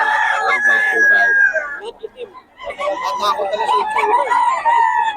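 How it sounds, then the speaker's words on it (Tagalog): A black McRae hen clucks and crows up close among other chickens, with people talking over the calls. "Yung black hen ni Boss ka"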